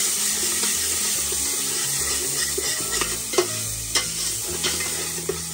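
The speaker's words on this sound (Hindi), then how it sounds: "अब मैं इसको हिलाऊंगी अच्छे से" A pan of chana dal tadka with turmeric being stirred, steady sizzling under repeated scraping strokes and a few sharp clinks of the spoon against the pan, close up with no talk.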